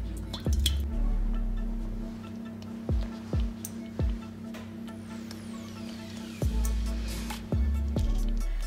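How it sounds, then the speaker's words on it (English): Barbecue sauce boils in a pot with repeated plopping bubble bursts, each a sharp drip-like pop, irregularly spaced over a steady low hum and close by. "Now just bring it to boil."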